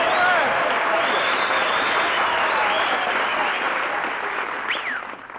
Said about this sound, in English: did you hear that ovation, Mary? Applause, cheers, whistles